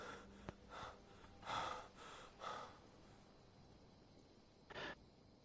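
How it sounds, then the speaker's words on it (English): A game character panting while running in modded Skyrim, a few short breathy gasps in uneven bursts, quiet and close, with gaps of near silence between them. "I hope there's a mod where I can just cut out the daggum panting and chanting and all that stuff whenever they're running."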